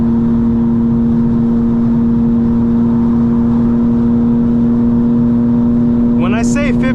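A tuned 900 hp 2025 BMW M4 Competition pulls hard in fifth gear from the cabin, a loud, steady engine drone with a strong constant tone and road roar throughout, and a voice cutting in right at the end.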